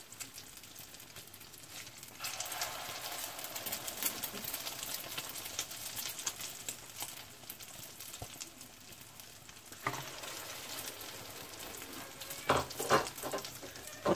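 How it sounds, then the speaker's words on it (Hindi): Chicken shami kebabs frying in a pan, with a soft, continuous sizzle of hot oil and occasional louder crackles and spatters, heard alone and fairly quiet. "थोड़ी देर के बाद हम इसको टर्न कर लेंगे, ब्राउन जब हो जाएंगे तो तब मैं इसको उतार लूंगी।"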